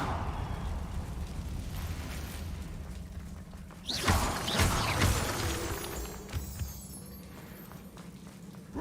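A Confringo spell blast in Hogwarts Legacy, a rushing explosive burst swelling midway over a low rumbling game ambience, then settling back into a steady background hum.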